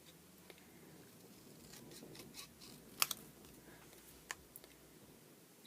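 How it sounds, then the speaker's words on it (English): Scissors snipping paper pieces for handmade card tags, a few faint, sparse crisp cuts over a quiet room hiss, with no talking. "And then I'm just going to cut this out, cut out around these pieces."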